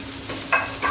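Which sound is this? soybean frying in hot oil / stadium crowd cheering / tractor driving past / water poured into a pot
soybean frying in hot oil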